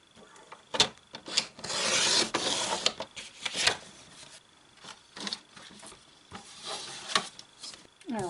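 Paper trimmed for a junk journal page on a cutter, heard as repeated scraping, rasping strokes and sharp clicks in uneven bursts, close and fairly loud.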